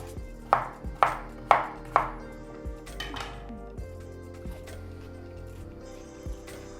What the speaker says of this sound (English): what I'm going to do is just to cut it up into little sticks